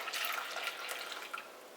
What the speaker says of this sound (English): We take the coffee and we're going to pour it into the pot carefully